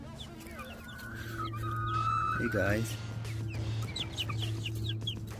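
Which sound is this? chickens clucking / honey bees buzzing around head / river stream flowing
chickens clucking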